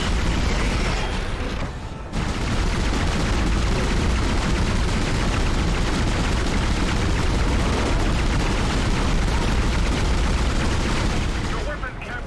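Gunfire in the sci-fi horror video game Dead Space, a dense, continuous barrage of loud shots and booms with a brief gap near the start, layered with game effects and voice chatter throughout.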